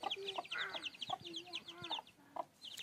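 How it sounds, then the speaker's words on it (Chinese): Baby chicks at a mountain livestock farm cheep in quick, high, repeated peeps, fairly faint and close, with a soft voice and low clucking underneath. "这还有小鸡仔，看到没有？"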